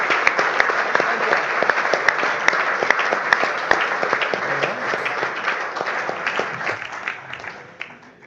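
An audience applauds after Fed Chair Powell's speech, with loud, sustained clapping of many hands and sharp individual claps rising through the crowd before it tapers off at the end.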